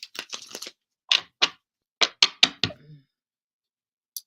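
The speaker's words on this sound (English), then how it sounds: "Let's shuffle that up." A tarot card deck is shuffled by hand close up, a series of short, crisp card slaps and riffles in irregular bursts, then a long quiet gap before one last soft tap, with no talking.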